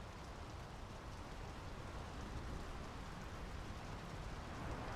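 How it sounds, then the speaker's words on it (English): A steady, even wash of rain falls in the video game Draugen, dense and unbroken across the whole stretch, heard alone without voices. "The rain's picking up."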